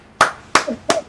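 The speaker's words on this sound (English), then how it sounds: "I will clap for everybody watching on YouTube right now." Three sharp hand claps spaced evenly about a third of a second apart, close and crisp, each with a short decay and no talk.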